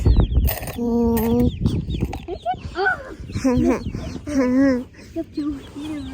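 Backyard chickens cluck and call in short, close bursts, with people talking over them throughout.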